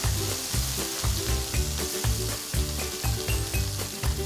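Vegetables blister in a hot pan, a steady loud sizzle with rhythmic scraping and stirring knocks running throughout, close and without speech.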